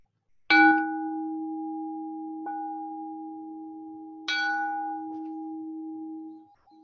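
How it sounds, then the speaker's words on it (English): A meditation bell struck twice, each strike a bright metallic ding followed by a long, steady sustained ring that slowly fades; a softer tap falls between the strikes, heard alone in a quiet room. "as I set this bell into motion for you."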